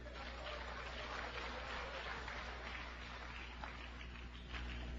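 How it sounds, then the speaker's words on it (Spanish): A church congregation claps for Christ at a sermon, a dense, continuous applause that is fairly distant and even throughout, with no voices over it. "Unas palmas para Cristo."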